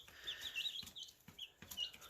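Chickens cluck and murmur nearby in short uneven bursts, with a few soft thumps between calls.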